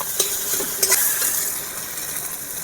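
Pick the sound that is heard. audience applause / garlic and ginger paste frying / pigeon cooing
garlic and ginger paste frying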